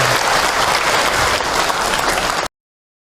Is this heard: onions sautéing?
no